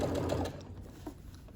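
A sewing machine stitches binding onto a hexagon quilt, a brief close whirring run of needle strokes that stops after about half a second, followed by faint clicks.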